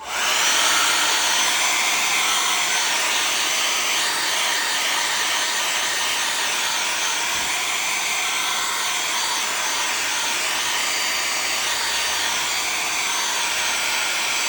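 A hair dryer blows steadily on a Halloween craft project made from old books, a loud, even airy whir that runs continuously from start to finish with no talking.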